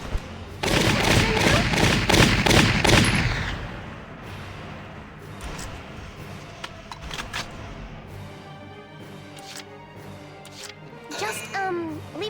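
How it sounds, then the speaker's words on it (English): Gunfire in Valkyria Chronicles, with allied units firing alongside: a dense, loud burst of rapid shots for about three seconds, then scattered thuds, game effects and brief talk. "That means when I shoot, she'll be shooting with me."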